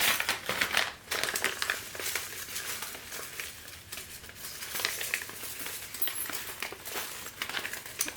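A plastic bag of fused glass pieces is handled, giving steady close crinkling and crackling with small clinks throughout, without speech.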